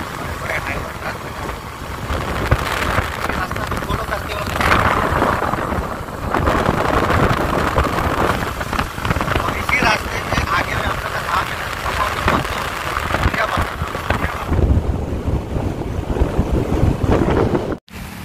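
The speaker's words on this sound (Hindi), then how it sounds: "देखिए घनघोर बारिश हम लोग को रास्ता में मिल गया है" Heavy rain pours steadily during a road trip on the way from Chaibasa to an engineering college, a dense continuous wash of noise with wind buffeting the microphone, loud and unbroken before dropping out abruptly at the very end.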